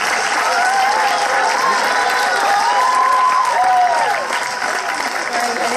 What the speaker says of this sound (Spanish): para quien le pido un aplauso